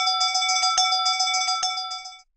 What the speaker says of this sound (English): In such cases, a bell will sound.